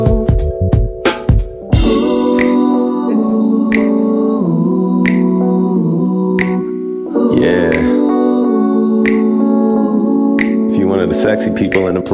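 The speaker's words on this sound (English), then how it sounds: "you're probably snapping your fingers right about now" Finger snaps in a school music video song, sharp clicks repeating at an even beat over sung music with a loud backing track.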